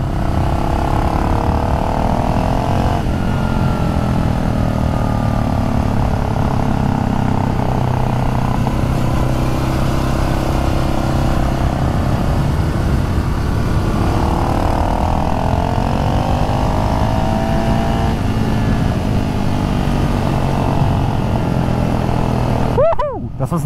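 A BMW G 650 X Moto supermoto motorcycle engine drones steadily and loudly on a ride, with rising and falling revs, wind buffeting, and bits of speech over it; a sharp burst of noise cuts in near the end.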